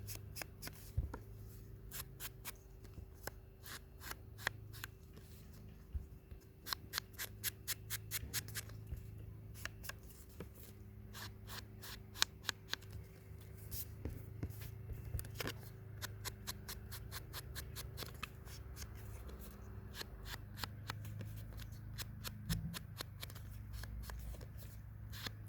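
Cardstock paper edges inked by hand with a small cotton dauber, giving close, soft, repeated scratchy rubbing strokes in quick irregular bursts over a low steady hum.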